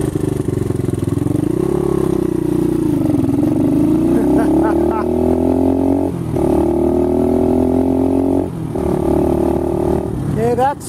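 A CXR motorcycle engine revs up through the gears with a modified exhaust and intake, a loud near drone rising in pitch with brief dips at each shift over about eleven seconds.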